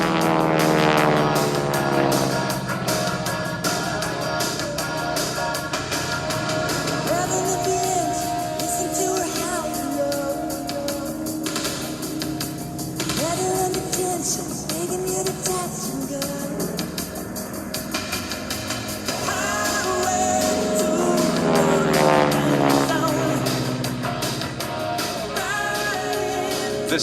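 Radial-engine airshow plane trailing smoke at Beverly Regional Airport, its propeller tips going supersonic, giving a loud, sustained rasping drone that swells near the start and again around twenty seconds as it passes close.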